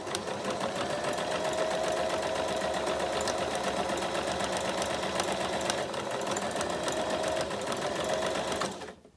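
A sewing machine runs steadily through a fabric seam with pins, its close, continuous motor hum and rapid stitching holding for about nine seconds before stopping abruptly at the end.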